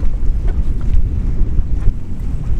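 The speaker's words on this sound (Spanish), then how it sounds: "Y encima el viento." Strong wind blowing over the sea near a jet ski off Menorca, a continuous low buffeting roar against the microphone with faint wash of water and no voices.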